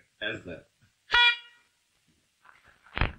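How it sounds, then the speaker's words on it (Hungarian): A car horn gives a short, sharp honk in a 1975 Katona József Theatre stage production of Ibsen's An Enemy of the People, between brief bursts of voices in an otherwise quiet room. "Kérem, ne dudáljunk!"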